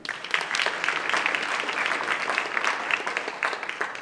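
Audience applause at the 2013 Intel Global Challenge finalist event, a steady dense wash of many hands clapping throughout, moderately loud with no talk over it.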